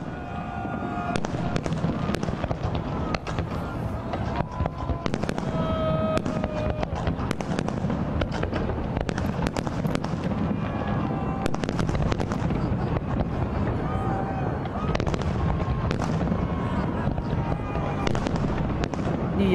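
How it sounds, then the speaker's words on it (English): New Year's Eve fireworks over Red Square in Moscow, a steady barrage of dense crackling bursts and rolling booms for the whole stretch, loud and continuous with wind buffeting the microphone. "Red Square, where these fireworks are coming from"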